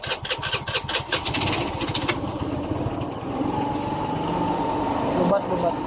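Honda Beat 110 motorcycle push-started; a sharp cranking burst catches and settles into a steady, close mid-pitched idle, with talk heard over the start.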